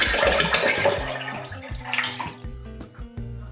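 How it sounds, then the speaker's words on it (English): Freshly squeezed orange juice poured into a gin cocktail mix for Agua de Valencia, heard as a splashing, gurgling pour that tapers off, with light background music underneath. "The whole of this freshly squeezed orange juice."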